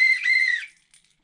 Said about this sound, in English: It's a ball whistle, and it actually sounds surprisingly good.